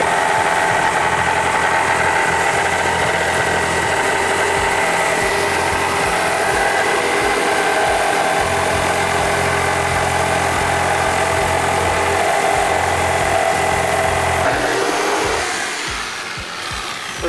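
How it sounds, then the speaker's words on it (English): A jigsaw cuts a circle into an outdoor table top, a loud steady buzzing motor whine held for about fifteen seconds before winding down, with no talk. "Next, jigsaw."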